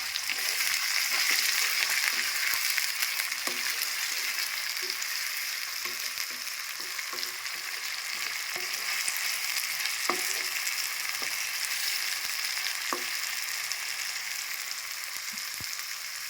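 Ivy gourd pieces being stirred as they fry with salt in a pan, giving a steady, close sizzle with scattered scraping clicks from the stirring throughout.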